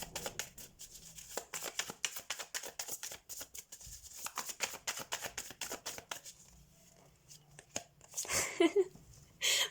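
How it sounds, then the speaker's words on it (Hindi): Tarot cards shuffled by hand for a monthly Scorpio reading, a dense run of quick papery riffles and slaps that thins out near the end, close and fairly loud with no talk. "तो सबसे पहले हम कार्ड शफल कर देते हैं"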